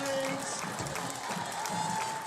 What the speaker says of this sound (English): the Canes faithful will greet them with a round of applause